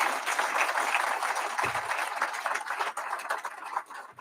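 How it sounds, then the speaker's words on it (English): Audience applause at a prisoner reentry program's graduation ceremony, with a dense burst of clapping that thins and fades toward the end. "Can we give them a big, gigantic round of applause?"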